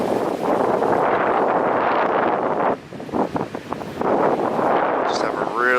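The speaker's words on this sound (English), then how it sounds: "winds are gusting well over 40 miles an hour right now" Strong blizzard wind gusting over 40 miles an hour in a Southern New Jersey snowstorm roars loudly and continuously across the microphone, with a brief lull midway before the buffeting returns.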